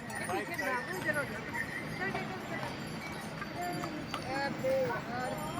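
Horses clip-clopping along the Kedarnath yatra mountain path with pilgrims, repeated hoof clops amid busy crowd chatter and voices nearby.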